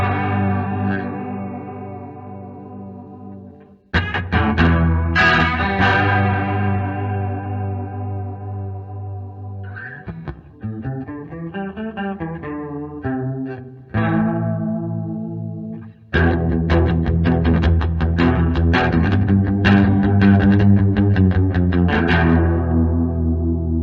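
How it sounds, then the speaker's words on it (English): Electric guitar played through a chorus effect, with a shimmering, wavering tone over sustained chords and riffs, loud and up close with some distortion and echo. "I mean, it's a chorus."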